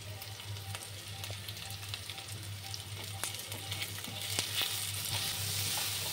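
Chopped coriander stems and crushed kasuri methi fry gently in oil for masoor dal fry, a soft continuous sizzle with faint stirring clicks, close but quiet and without talk.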